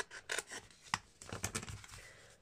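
Paper for a large fold-out scrapbook photo album is cut straight by hand in short, quiet scraping and snipping strokes, several brief rasps close to the listener with no talk.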